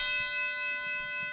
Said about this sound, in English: So if you're ready, let's ring that bell.